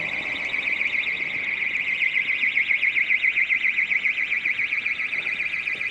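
Electronic alarm wailing on Lord Street, Fleetwood at night, a steady warbling high-pitched siren that pulses rapidly and continuously, loud and close.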